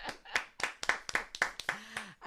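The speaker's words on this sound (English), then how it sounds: "Come on, let's clap." Several people clap hands in a quick, uneven burst of about eight sharp claps over two seconds, close and fairly loud, with a short voiced sound near the end.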